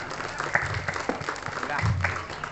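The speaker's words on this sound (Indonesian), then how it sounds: "Kasih tepuk tangan untuk regu A dan regu yang lainnya." Scattered applause from a small group for teams at an Islamic quiz competition, fairly faint, with a voice speaking through it.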